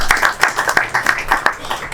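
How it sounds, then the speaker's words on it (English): Scattered applause at a community business gathering greets a roofing company representative, a handful of distinct, fairly close claps in an uneven rhythm rather than a dense roar. "Round of applause."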